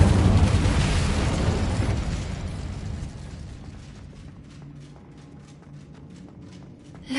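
An Incendio fire spell cast in the video game Hogwarts Legacy opens with a loud, full-bodied burst that roars and slowly fades over several seconds into a quiet background with faint ticking.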